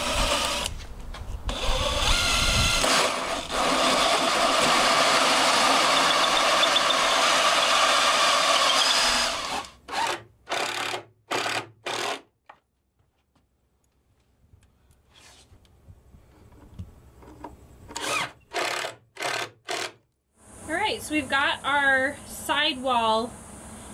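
Wall panels for a broom closet are cut with a power tool, a loud, steady buzzing run for several seconds, followed by short clattering bursts, a quiet pause, and then people talking.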